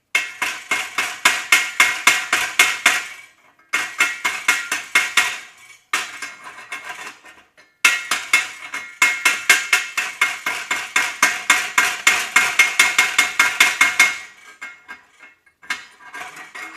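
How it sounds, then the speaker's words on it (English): Repeated sharp metallic chipping taps knock slag off a stick (SMAW) weld bead made with too short an arc, fast rhythmic bursts with brief pauses, close and loud, no talking. "Still removing the slag."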